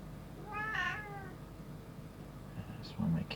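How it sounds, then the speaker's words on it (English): A domestic cat gives a single short meow partway through, moderately close in a quiet room, with faint handling noises near the end. "That's one of my cats."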